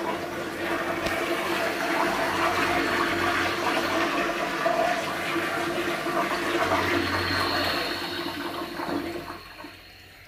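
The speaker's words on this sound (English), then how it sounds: "What happens if I flush at the same time?" A 1927 Standard toilet fixture in a men's restroom flushes with a loud, sustained rush of water that swirls for several seconds and then tapers off toward the end, heard alone without talking.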